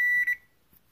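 A newly bought kitchen oven's timer, set at 400 degrees, sounds a single sharp electronic beep lasting about a third of a second, loud and close, followed by near silence.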